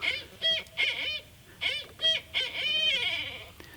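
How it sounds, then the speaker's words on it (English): A barred owl calls in a series of loud, repeated hooting bursts, a few clustered close together, ringing out over a faint background hum near a campsite at Sugar Bay, Land Between the Lakes. "we just started hearing a call from a barred owl"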